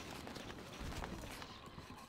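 Horse hooves pounding in a fast gallop in the video game Stronghold: Crusader, a dense, rumbling clatter that stays loud and close for the whole short stretch.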